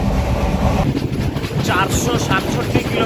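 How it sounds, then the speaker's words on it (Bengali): The Tinsukia–Tambaram Express rolls into Rangiya Junction station with a loud, steady rumble and wheel clatter, wind buffeting the microphone, close by throughout. "এখন তিনসুকিয়া তাম্বারাম এক্সপ্রেস প্রবেশ করছে রঙিয়া জংশন রেলওয়ে স্টেশনে"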